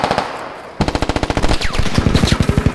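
Friendly tank in the military shooter game Squad firing on the player: a rapid, loud, close burst of machine-gun fire with evenly spaced shots, after a moment of quieter ambience, with whizzing passes overhead.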